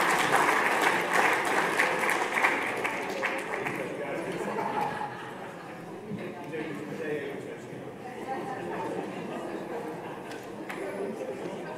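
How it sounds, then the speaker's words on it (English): Audience at a Co-op Congress event clapping for young people attending on a Saturday morning, strong applause that gradually thins out, with crowd chatter and voices mixed in as it fades. "Can we have a round of applause for all the young people who made it 10 o'clock on a Saturday morning?"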